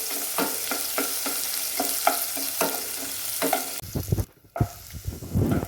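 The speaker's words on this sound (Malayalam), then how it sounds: "നന്നായി വഴറ്റിട്ടുണ്ട് സവാള." Onions sautéing in a pan for Kerala-style palak paneer, with a spoon scraping and stirring in a steady rhythm over a continuous sizzle, close and clear. The stirring turns busier and more irregular near the end.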